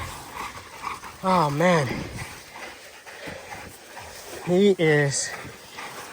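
A Cane Corso wild boar hunting dog gives two drawn-out, wavering whimpers a few seconds apart, close and fairly loud, with someone speaking briefly in between.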